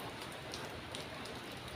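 Steady rain falling outdoors while someone shelters from it, a dense, even hiss of drops with occasional louder splashes and no talking.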